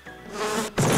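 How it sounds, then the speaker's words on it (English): A bee in the video game Destruction Simulator gives a loud, close, wavering buzz that briefly drops out and then returns even stronger. "Did you hear the bee sound?"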